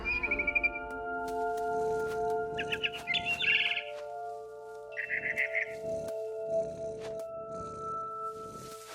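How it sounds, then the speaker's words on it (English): A barn swallow chirps in short bright bursts over a steady game music drone, returning to her nest in What Remains of Edith Finch; the calls come in a few clustered flurries, fairly close and moderately quiet. "It was a barn swallow going back to her nest."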